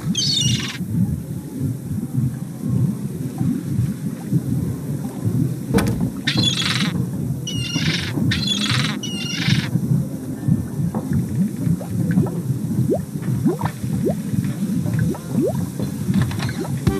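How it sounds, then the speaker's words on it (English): Bird calls from The Secret of Monkey Island game, a few short chirping bursts partway through over a steady rumbling, rain-like ambient game soundscape. "I think that bird will peck my hand off."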